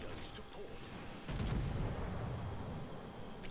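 Secondary guns of the British battleship HMS Agincourt in World of Warships fire in a dense, rumbling barrage, booming reports swelling into a continuous roar after a brief quieter stretch of distant gunfire.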